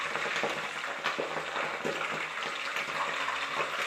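Hibiscus leaves splutter and crackle in hot oil for homemade hair oil, a dense, close sizzle with scattered sharper pops running continuously throughout, no voices.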